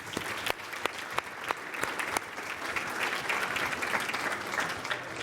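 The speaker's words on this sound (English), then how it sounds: "So let's give a very big round of applause to our first two guests." An audience applauds guests at an event in Raleigh, North Carolina, a steady, moderately loud patter of many hands with a few sharper claps standing out.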